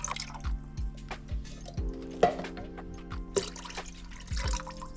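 Water runs into a can of crushed tomatoes in a kitchen to rinse it out, with steady trickling and irregular drips and splashes over a low background hum.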